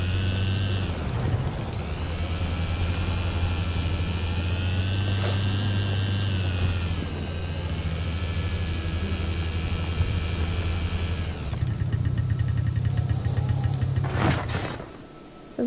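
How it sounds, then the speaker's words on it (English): Vehicle engine noise in the video game Kona on PS4: a loud, steady droning hum with a deep low rumble, shifting pitch midway and again near the end before cutting off abruptly, with no talking. "Thank you, game, for sticking me with that engine noise again."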